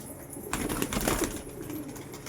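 Andhra pigeons coo in a low, soft murmur that starts after a quiet half second and carries on steadily at close range, with no voices over it.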